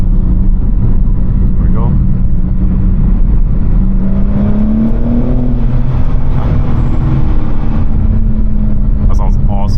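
BMW M4 engine pulling hard through a freeway tunnel in California at night, a loud continuous roar with a slowly rising tone under the cabin, echoing and sustained for the whole stretch; someone speaks briefly near the end.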